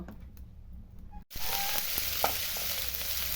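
Onion, garlic and ginger paste for a prawn curry hits hot oil with a sudden loud whoosh, then settles into a steady, close sizzle, after a quieter pan hiss beforehand; no one speaks.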